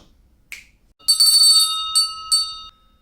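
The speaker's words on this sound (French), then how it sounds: "sonnez les cloches" A quick snap is followed by bright bells ringing in two or three shimmering strikes, clear and close against silence.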